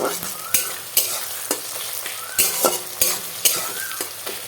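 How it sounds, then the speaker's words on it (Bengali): Bay leaf and spices stirred and frying in hot oil for a Bengali mocha chop curry, with a steady sizzle broken by repeated scraping stirs of a spatula against the pan, close up and with no voices. "একটা তেজপাতা ফেলিয়ে দিচ্ছি এতে সব কিছু একসঙ্গে দিচ্ছি তেলে ভালো করে এর সঙ্গে নেড়ে ভেজে নিচ্ছি"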